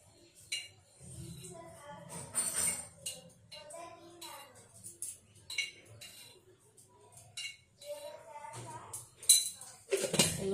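Puffed rice tossed with chopped cucumber, tomato and green chilli in a bowl, giving scattered clinks and scrapes of a spoon against the dish, close up and intermittent.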